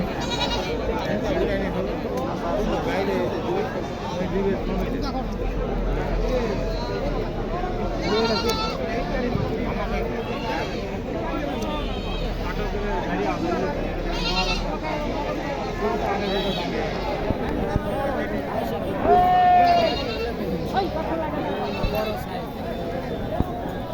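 Goats bleating at the Kirtipur goat market in Naogaon, repeated calls from several animals scattered over a constant crowd babble and nearby voices talking.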